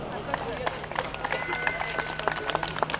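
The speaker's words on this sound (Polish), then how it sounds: "Całą publiczność poprosimy teraz o wielkie, ogromne brawa." An audience at the Lubawka town rights anniversary celebration in Poland claps in dense, steady applause with scattered sharp claps, and a voice carries over the crowd.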